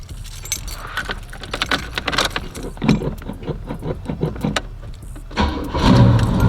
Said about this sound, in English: I can give y'all a cold start real quick.